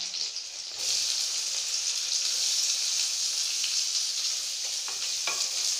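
Finely chopped onion drops into a hot pan with spices and sizzles, a bright steady hiss swelling suddenly after a quieter start, with faint stirring clinks near the end and no voices.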